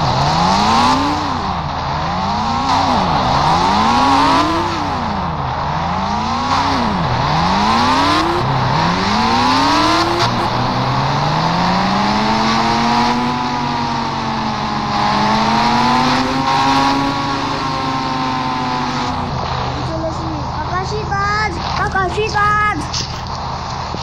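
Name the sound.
motorbike engine revving in Indian Bike Driving 3D video game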